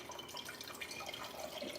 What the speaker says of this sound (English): I'm gonna pour that inside of the strainer to like strain it off